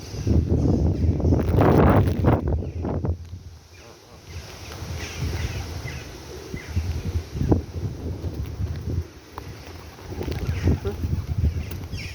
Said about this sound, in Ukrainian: Ой, вітер так.